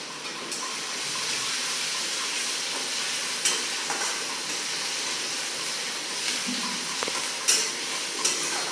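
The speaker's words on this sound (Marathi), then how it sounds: "कांदा मस्त सोनेरी रंगावर परतला गेला पाहिजे" Finely chopped onion sautés toward golden in oil with cumin seeds in a pan for palak paneer. A dense, even sizzle hisses throughout, broken only by a few light stirring clicks, with no talk.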